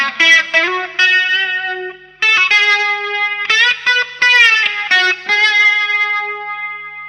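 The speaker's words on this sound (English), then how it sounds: "With a distortion, it's gonna sound more clear." An electric guitar run through heavy distortion plays a solo, picking sustained bent notes in phrases with short pauses between them.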